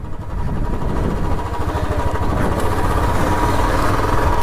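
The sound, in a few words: motorcycle engines running outside bike launch event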